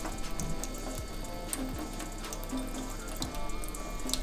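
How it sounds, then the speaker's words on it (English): Tap water runs steadily into a sink, a soft continuous splashing with a few faint clicks and knocks. "kitty likes fresh running water"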